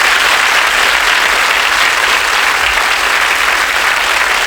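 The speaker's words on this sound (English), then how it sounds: "Give them a round of applause." Studio audience at a game show breaking into loud, sustained applause, a dense steady wash of many hands clapping close up without pause.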